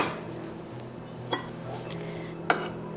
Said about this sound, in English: I'm just gonna plate it up for me and Jake.